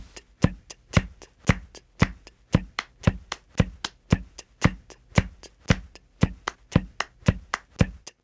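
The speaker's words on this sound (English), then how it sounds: "And now, clap the clave" Sharp hand claps beat out a clave rhythm in 7, bright dry strikes in a repeating uneven pattern, close and alone with no voice.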